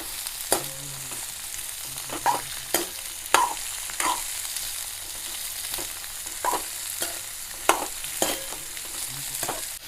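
Kantola and onions fry in a pan with a steady sizzle, punctuated by sharp spatula taps and stirring scrapes at irregular intervals, heard up close with no talk.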